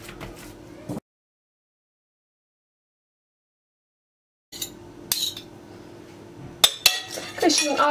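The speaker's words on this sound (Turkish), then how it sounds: "Kaşığın arkasıyla bastırarak düzeltiyorum." A spoon clinks and scrapes against a lined mould while pressing in pasta filling, a short burst of close clatter followed by silence, then renewed tapping and scraping that grows louder toward the end.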